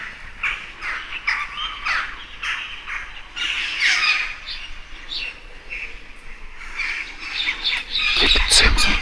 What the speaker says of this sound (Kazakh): адамдардан қорқпайды мына қарғалар